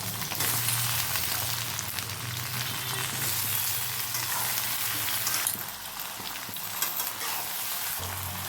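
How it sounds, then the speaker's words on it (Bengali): Jujubes (kul) are dropped into hot oil with dried red chillies while making a kul pickle, producing a loud, dense, continuous frying hiss that shifts slightly partway through. No one speaks. "এবার আমরা এই তেলের ভেতরেই কুলগুলোকে ছেড়ে দেব"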